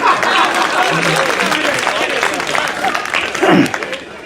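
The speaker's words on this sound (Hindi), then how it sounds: "अगर अच्छी लगे तो जोरदार ताली बजाइए" Loud applause from a large crowd fills the clip, steady and dense, with a few voices rising through it near the end.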